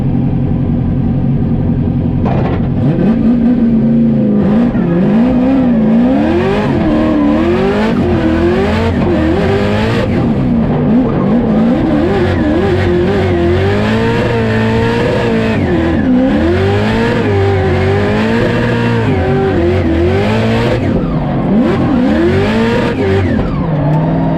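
Nissan S15 drift car being tested on track, its engine revving hard and wavering up and down continuously with tire squeal throughout, loud and close with no talk.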